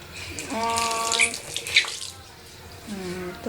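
Water runs from a tap in a bathroom with a steady splashing flow and a few drips, fairly close, while voices murmur faintly in the background.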